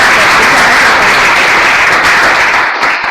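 Studio audience applauding a departing guest at the close of a Spanish talk show, loud sustained clapping close to the microphone, tapering slightly at the end.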